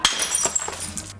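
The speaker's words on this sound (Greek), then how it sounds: "έσπασε μου τον Κινέζικο το βάζο μου" A Chinese vase smashes in one short crash, with bright shattering and tinkling shards that scatter and die away within about a second.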